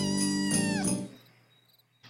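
Several random synthesized cat meows, triggered by clicking an object in the Kitely virtual world, sound close and loud in quick succession for about a second, then fade, with a short burst returning at the end.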